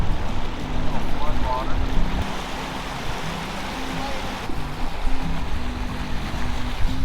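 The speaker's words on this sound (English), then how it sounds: "it's raining" Tyres hiss steadily on a rain-soaked road as a rat rod wrecker cruises home through southern Utah's monsoon season, with a low engine drone and buffeting wind noise underneath throughout.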